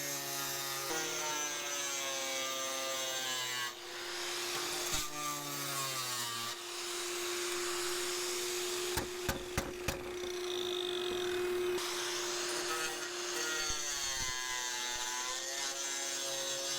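A power saw grinds and rasps through Triton cement board in several passes over a steady vacuum hum, with brief clicks and pauses between cuts.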